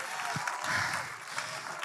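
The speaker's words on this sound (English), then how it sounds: "Give the Lord a hand clap of praise right now." Church congregation clapping hands in praise, a short burst of scattered, overlapping claps from a crowd that swells briefly and stays fairly close.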